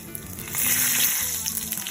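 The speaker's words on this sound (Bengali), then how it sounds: "তেল গরম হয়ে গেছে আমি ফোড়নের জন্য দিয়ে দেব জিরে শুকনো লঙ্কা তেজপাতা দারচিনি আর দু তিনটে এলাচ" Cumin seeds, dried red chilli, bay leaf, cinnamon and cardamom hit hot oil for a chicken dopiaza tempering, giving a close, steady crackling sizzle that swells and holds without talk.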